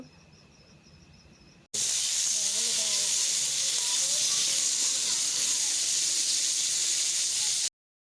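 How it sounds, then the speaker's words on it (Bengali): Bitter gourd frying in a kadai after salting, a loud, steady broadband hiss and sizzle that starts abruptly, holds evenly for about six seconds, then cuts off, with faint stirring beneath and near. "লবণ দেওয়ার পর ভালোভাবে নাড়াচাড়া করে ভেজে নেব।"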